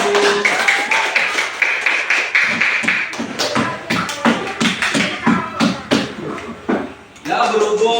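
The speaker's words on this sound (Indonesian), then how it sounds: "Kasih tepuk tangan dulu." Classroom applause after a group presentation, many students clapping in a brisk, uneven patter of sharp, close hand claps that continues for several seconds, with voices mixed in and a louder burst near the end.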